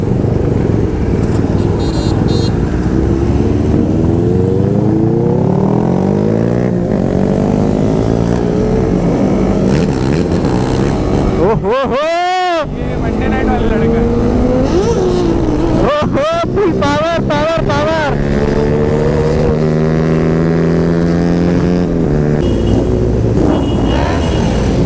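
A KTM Duke 200 BS6 motorcycle cruising on a highway among other bikers, steady loud engine drone with wind rush and rising and falling revs, other vehicles passing close, and a rider talking over the noise.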